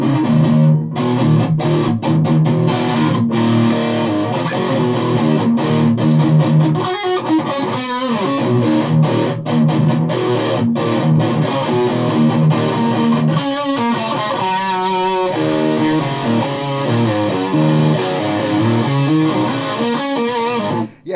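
Jackson electric guitar fitted with EMG 81/60 pickups played through a distortion pedal, a continuous, loud, heavily saturated riff with distinct notes and rhythmic chugging throughout, no talking.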